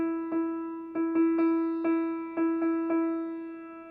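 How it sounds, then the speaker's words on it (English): A piano plays the E just above middle C, struck eight times in an uneven rhythm, each note ringing clearly and close before fading slightly, alone with no talking. "I'm going to start by playing on the E directly above that middle C."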